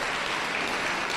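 Audience applause at a community political debate, a dense, steady burst of many hands clapping from a crowd, loud and unbroken throughout, with no voices over it.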